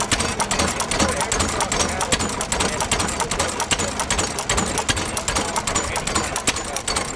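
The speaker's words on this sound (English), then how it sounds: "here we have a hit and miss engine with a belt drive" A belt-driven hit and miss engine runs with a steady, rapid mechanical chugging and clatter that fills the clip, its rhythmic beats loud and continuous alongside faint background noise.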